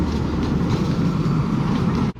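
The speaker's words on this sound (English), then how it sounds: "And the train is running." A train runs past in Matlock, England: a steady, loud, continuous low rumble with faint rail clatter, holding even before cutting off abruptly at the end.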